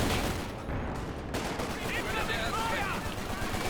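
Dense gunfire from a Company of Heroes 2 battle, steady overlapping shots and bursts filling the whole stretch, with faint game sounds layered underneath.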